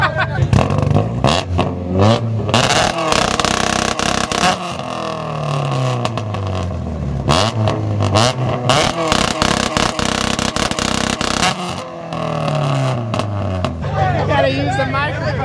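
EVO and Supra cars revving hard with two-step launch control at a car show, loud rising and falling engine roars with choppy limiter crackle, close by, while a crowd murmurs and people talk throughout.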